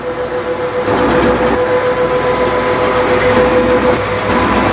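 A medium-size rice milling machine runs steadily, giving off a loud continuous mechanical hum with a sustained tonal whine and a rough grinding rumble. No one speaks.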